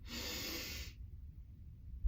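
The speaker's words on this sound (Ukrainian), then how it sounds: "робіть глибокий вдих і затримка дихання" A deep, breathy inhale through the nose during a guided breathing exercise, one long airy draw lasting about a second, close and fairly loud, followed by quiet held breath with low room rumble.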